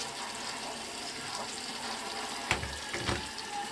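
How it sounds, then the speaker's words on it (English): Water runs from a tap onto a facial sponge held against a bar of soap, a steady close hiss with a couple of brief splashy bursts near the end. "get a little water, a little more water"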